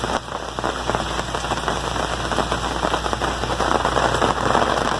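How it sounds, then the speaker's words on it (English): Rain falls on a campsite as a dense, steady patter of drops, close and continuous, mixed with sharper ticks and taps from drops striking gear and surfaces, with a faint low hum underneath and no voices. "Nothing like packing up in the rain."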